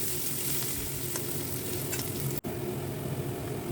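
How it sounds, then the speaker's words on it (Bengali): Whole cumin, dried red chillies, bay leaves and chopped onion frying in oil, a constant close sizzle with stirring scrapes throughout and one very brief break. "এবার গোটা জিরে, শুকনো লঙ্কা, তেজপাতা, কুচনো পেঁয়াজটাকে ভালো করে ভেজে লাল করে নিব।"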